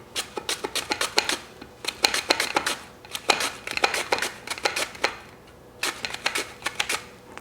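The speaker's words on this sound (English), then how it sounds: "if you have a microplane, then you can slice them really thinly pretty quickly" Shallots sliced thinly on a microplane for a from-scratch green bean casserole make rapid, rhythmic rasping strokes in three close, steady bursts with short pauses between, and no voices.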